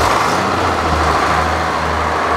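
Old sawmill engine running with a steady low rumble and throbbing idle, loud and close throughout with no pauses.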